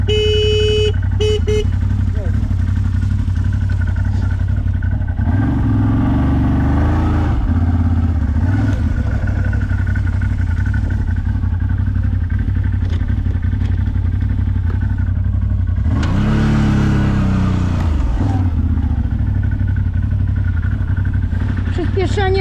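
A CF Moto 1000 rumbles with a steady engine drone and surges as it accelerates twice, loud and close, while people talk over it.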